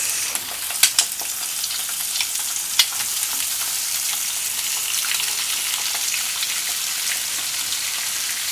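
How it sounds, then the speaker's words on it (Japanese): Bacon fries in a pan with a bright, steady crackling sizzle and a few sharp pops early on, continuous and close with no talking. "そしてベーコンを入れます"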